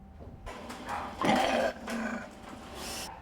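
An angry dog growling at an airport quarantine check, with low rumbling growls that swell into a loud snarl midway, then two further growls close to the listener.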